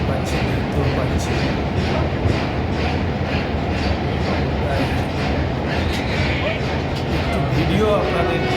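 Passenger and goods trains cross a railway bridge over the Krishna River, giving a continuous heavy rumble and rhythmic wheel clatter that fills the whole stretch, with faint voices in the background.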